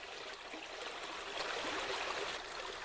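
Water in a trout brook rushes and swirls over rocks where the current enters a pool, a steady, soft, broadband wash that runs without a break and with no voices.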